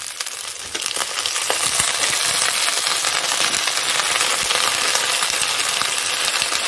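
Potato pieces and vegetable stalks frying in hot oil, a loud dense crackling sizzle that jumps up after the first second and then holds steady with small pops, no talk.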